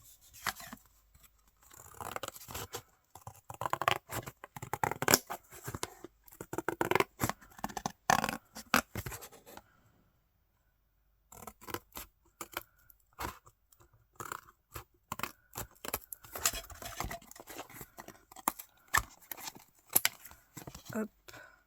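Blades cut through a piece of material for a homemade bookbinding tool, giving bursts of close crunchy snipping and rubbing broken by a short silent pause, with no voices.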